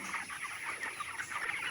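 A flock of 24-day-old broiler chickens clucking and murmuring steadily at close range, a dense overlapping chatter with no voices.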